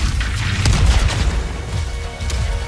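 A grenade blast in a first-person video game: a loud, deep, rumbling boom that swells and rolls on for a couple of seconds, with a sharper crack partway through.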